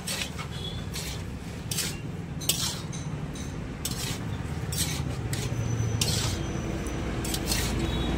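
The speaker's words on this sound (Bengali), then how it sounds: "এবার রাইসটা দিয়ে দিলাম, এবার ভালো করে একটু নেড়ে নেবো" A spoon stirs rice in a cooking pot, giving repeated metallic clinks and scrapes in an irregular rhythm over a low steady background rumble, close and fairly quiet.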